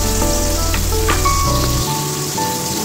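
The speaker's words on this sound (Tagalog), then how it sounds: "Then, mag-fry ulit tayo ng ginger, onion," Ginger and onion frying in a pan, a loud close sizzle with crackling pops and faint stirring scrapes, steady throughout while a low hum drops away partway.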